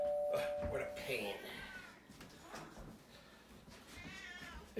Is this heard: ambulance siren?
no